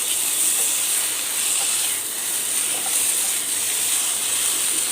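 Fried sausages are stirred in a pan with chili garlic oil and tomato sauce, making a constant bright hiss and sizzle, close and even throughout, with no talking.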